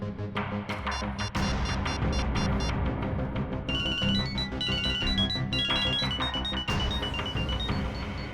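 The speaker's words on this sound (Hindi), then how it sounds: "मेरे फोन करने पर अलग तरह की रिंग बजी?" A mobile phone rings with an unusual repeating electronic tone, steady and fairly quiet, layered over a dense musical background with no talking.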